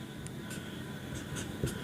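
Chalk or marker writing on a classroom board during a math lesson, a few short faint scratchy strokes in an irregular rhythm over a quiet room hum.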